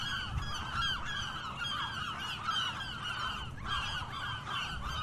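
Geese honk in a Fisherman's Wharf ambience recording, with a dense, continuous flock of overlapping nasal honks at a moderate distance that keeps going for five seconds, with no voices.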